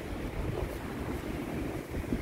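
Very strong wind roars and buffets the microphone in a low, steady rumble. It is fairly quiet overall, with no one talking.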